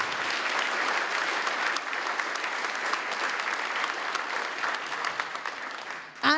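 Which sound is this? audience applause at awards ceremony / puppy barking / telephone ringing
audience applause at awards ceremony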